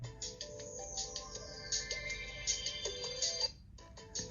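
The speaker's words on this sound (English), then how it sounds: "That's the boot up sound." A phone's boot-up jingle and ringtone, Tone 1, plays alone as a short bright electronic melody of layered tones that cuts off abruptly near the end, followed by a few faint blips.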